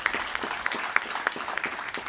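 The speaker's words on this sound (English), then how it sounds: "Please give them a round of applause." Audience applause at a live event, a moderate spread of irregular hand claps sounding from a crowd at medium distance, without voices over it.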